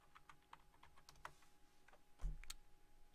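Quick, light keystrokes tap out a short burst of typing on a computer keyboard, soft and close with a slightly louder thump near the end.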